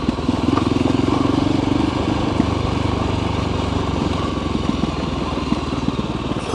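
A Voge Rally 300 motorcycle on stock tyres rides through sand, its single engine droning loud and steady with constant rough, buzzing texture and wind noise throughout.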